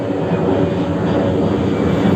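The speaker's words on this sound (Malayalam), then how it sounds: "ഫ്ലൈറ്റ് പോകുന്നുണ്ട് കേട്ടോ" A steady broadband roar of an airplane passing overhead a cinema, loud and continuous with no speech.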